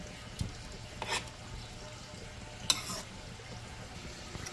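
Mackerel for a Jamaican rundown frying and being stirred in a pan, a soft, steady sizzle with occasional scraping stirs and a sharp clink, quiet and close, with no talk.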